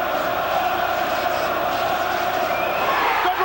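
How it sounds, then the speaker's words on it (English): Boxing arena crowd at a 1995 title fight, a loud, dense roar of many voices chanting and singing together, sustained and fairly close, with a rising swell near the end. "Listen to this crowd, the chanting, the singing."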